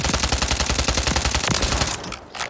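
Rapid automatic gunfire from a suppressed weapon on a shooting range in Warzone, a dense fast burst lasting about two seconds before stopping, loud and close with no talk.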